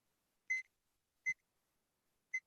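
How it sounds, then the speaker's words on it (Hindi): Three short, clear electronic beeps from a mobile phone's audio IC during component testing in a repair session, spaced unevenly and heard alone against silence. "देखिए ये बीप कर रहा है यहाँ पे"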